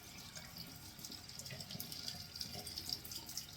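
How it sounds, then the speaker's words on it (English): Tap water runs steadily into a sink while a shaving brush is rinsed under it, making a continuous close hiss and splash with small irregular drips throughout. "I'm gonna wash this brush out a little bit."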